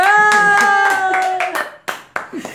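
Hands clap in applause during an online motivational show. A few sharp claps sound near the end, after a person speaks over faint background music.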